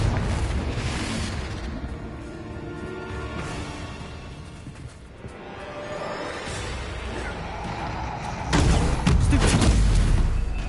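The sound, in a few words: Confringo spell blast in Hogwarts video game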